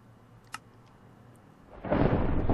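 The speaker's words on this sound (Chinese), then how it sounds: "哦，又打雷了。" Thunder in the Minecraft video game, a soft click first and then a loud rolling rumble that swells near the end of the short stretch, with no talk over it.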